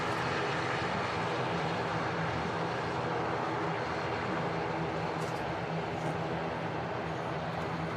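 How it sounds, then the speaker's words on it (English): Ryanair airliner arriving at Manchester Airport from Copenhagen, a steady broadband engine roar that holds loud and even throughout, with no voices. "It's Ryanair in from Copenhagen"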